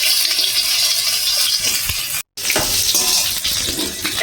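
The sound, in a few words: frying stuffed pointed gourd in a pan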